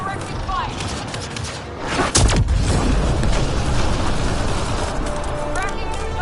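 Combat gunfire in a video game, dense steady shooting with a loud booming impact partway through, continuing under a voice calling out.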